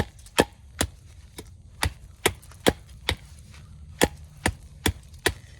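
A medium-sized survival knife chops into wood to carve a stake outdoors, giving about a dozen sharp, close chopping knocks in a loose, uneven rhythm, with no talk.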